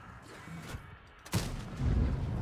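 A single loud tank cannon blast in World of Tanks booms sharply, followed by a rumbling echo and continued low roar; no talking.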